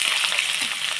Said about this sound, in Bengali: আর লঙ্কার গুঁড়ো দিয়ে মশলাটাকে সুন্দর করে কষিয়ে নেব